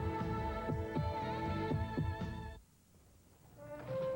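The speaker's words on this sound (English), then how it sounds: "listen to your heartbeat. The heartbeat of America." Heartbeat-style throbbing in a Chevrolet Chevy Cavalier car advert, heard as regular low thumps over a sustained musical hum, breaking off for a quiet moment before the sound resumes.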